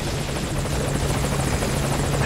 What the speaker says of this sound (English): You get on the helicopter.